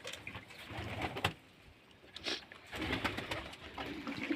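Pigeons coo softly in a loft, with a few low, throaty calls rising and falling in short bursts against a quiet background.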